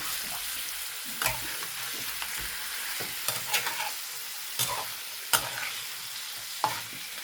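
Prawns sizzle in hot oil for a spicy Gujarati-style dish while being stirred, a soft, continuous frying hiss punctuated by several brief scraping taps of a spoon in the pan.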